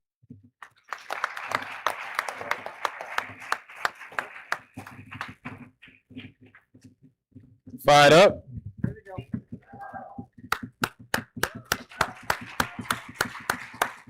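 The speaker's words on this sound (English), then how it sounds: "And these applause are for the MC." Audience at an NAACP Freedom Fund dinner claps for the MC, steady rhythmic clapping that pauses briefly around a short burst of voices, then resumes with sharp, spaced claps.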